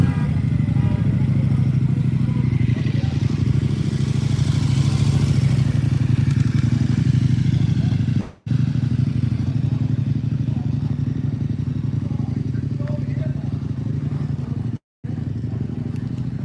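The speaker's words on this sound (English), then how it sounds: "A little off-road bike." A small off-road motorcycle engine idles and runs steadily nearby at a car meet, a low continuous drone with faint clatter, broken by two brief dropouts.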